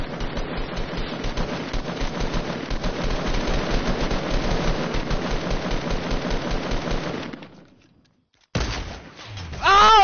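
Gunfire in Fortnite during a sniper duel: a dense, loud burst of rapid shots runs for several seconds, drops to a brief silence, then one more sharp blast follows.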